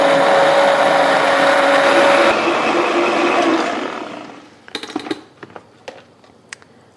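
A blender whirs loudly through a sauce for several seconds, then winds down and stops, followed by a few light clinks and taps.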